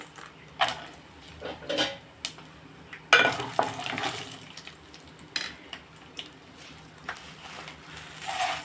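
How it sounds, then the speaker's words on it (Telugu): Peanuts roast in an oil-coated pan on a stove while making tamarind rice with mustard, heard as a steady sizzle with frequent scraping stirs and occasional clatters of the pan, with no voices. "మనం దీంట్లోకి పల్లీలు వేస్తాం ఫస్ట్ పల్లీలు వేపుకొని"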